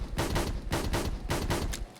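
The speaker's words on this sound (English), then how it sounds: "And there's your burst firing," Rapid burst fire from a Smith and Wesson R8 revolver with a Taurus barrel and glow sights in Fallout 4, about eight sharp, evenly spaced shots in quick succession, loud and close with no talk.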